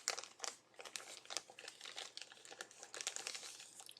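Crinkly material on a toy parachute is crumpled and rubbed close up, a dense, continuous crackling rustle that stays soft and intimate throughout.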